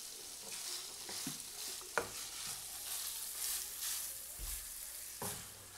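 Minced meat frying in oil in a pan, a dense hissing sizzle with occasional sharp pops and utensil knocks, close by and moderately loud, with no talking.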